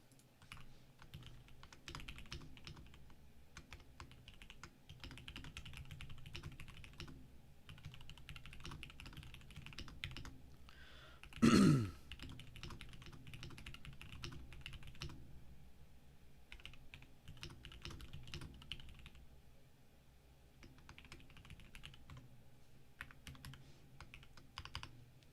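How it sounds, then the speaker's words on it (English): Someone types on a computer keyboard in quick, irregular bursts of soft clicks with short pauses, fairly quiet and close, broken once by a louder knock; no one speaks. "Typing in the Discord"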